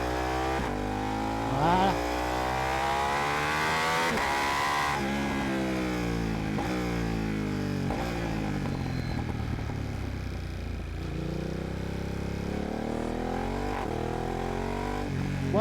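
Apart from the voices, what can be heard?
car engine revving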